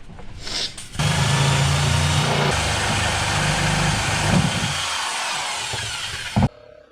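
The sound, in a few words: jigsaw cutting wood freehand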